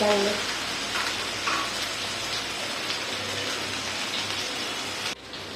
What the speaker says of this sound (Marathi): लो ते मिडियम गॅसवर परतून घ्यायचे